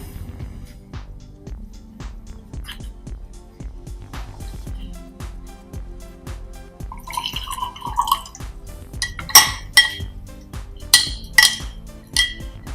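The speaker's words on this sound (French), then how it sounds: "je vais dissoudre une cuillère à café de chlorure de magnésium ou nigari dans un peu d'eau" A spoon clinks against a glass while stirring a teaspoon of magnesium chloride (nigari) into a little water for homemade tofu. A soft, dripping background gives way to several bright, close clinks near the end.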